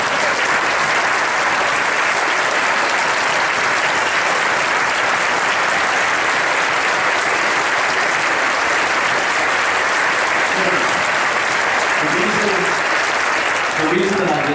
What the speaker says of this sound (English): I want you to clap to this for yourselves